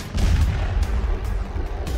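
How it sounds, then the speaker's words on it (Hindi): Explosion aboard the Gangotri cruise boat at Ravidas Ghat in Kashi, heard as a dense, loud stretch of booming, rumbling blasts with sharp cracks in a continuous barrage. "गंगोत्री क्रूज में धमाका हुआ है"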